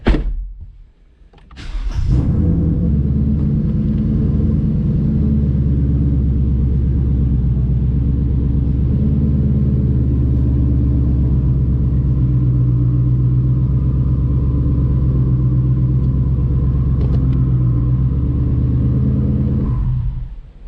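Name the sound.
twin turbo 2020 Mustang GT pulling onto scales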